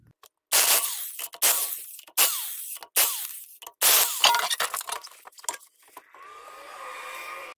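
A small screwdriver picks and scrapes rust debris from a stuck, rusty rear axle on a BMW E61. About half a dozen close, sharp metallic scraping strokes with clinks are separated by brief pauses, ending in a softer steady scrape.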